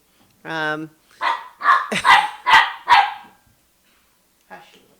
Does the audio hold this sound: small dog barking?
yes